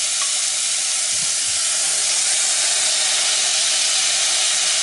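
Persillade sweating in a hot pan for a beef meatball tomato sauce, giving a steady, loud broadband sizzle and hiss that runs unbroken throughout, with no voices.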